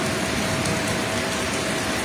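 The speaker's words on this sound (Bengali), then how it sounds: "বেশ ভালো শব্দ বেড়ে গেল বৃষ্টির, হচ্ছে যথেষ্ট বৃষ্টি হচ্ছে" Heavy rain pouring down on a hot May day, a dense and even hiss of drops on surfaces that holds steady and fairly loud with no voices.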